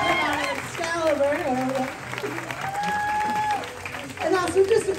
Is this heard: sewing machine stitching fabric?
no